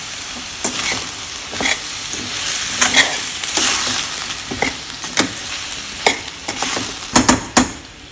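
Brinjal curry with salt and curry leaves is stirred in a hot pan: a loud, continuous frying sizzle cut by sharp spoon scrapes and knocks against the metal, heard close up with no speech.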